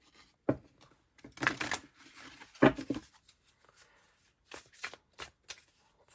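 A new Egyptian Art Nouveau tarot deck is shuffled by hand in a few short bursts of riffling card rustle, close and fairly quiet, separated by brief pauses and soft handling taps.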